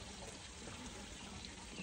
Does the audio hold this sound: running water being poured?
yes